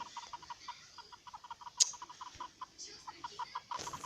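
Clucking chicken in a battle royale video game, a rapid run of short, evenly spaced clucks up close, broken by a brief sharp squawk and a louder burst at the end.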